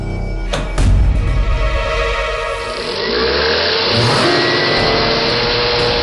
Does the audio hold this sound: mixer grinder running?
yes